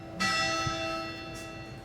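A church bell rings nearby with a sustained, ringing tone, struck once and again after about a second, its hum lingering at moderate loudness.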